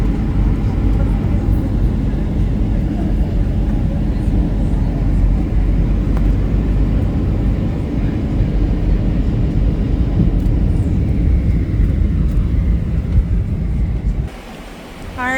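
Airplane cabin noise during a flight on a Bahamas trip: a loud, steady low roar that fills the whole stretch without a break, with faint voices and a sudden shift in the sound just before the end.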